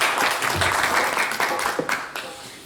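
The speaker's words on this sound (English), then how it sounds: "Can you give him a round of applause, please?" Applause from an audience at a temple tribute event after a devotional singing performance, a steady wash of many clapping hands that gradually thins and fades.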